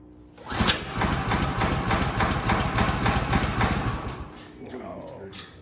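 The engine on a Woodland HM126 sawmill starts and runs with a close, loud, rapid chugging pulse for several seconds, then cuts away into quieter background noise.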